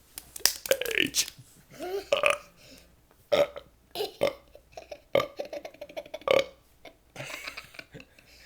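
Close, loud belches from a man working through the alphabet come in an uneven run of about ten short burps, some clustered and some spaced out, with brief breathy sounds between them.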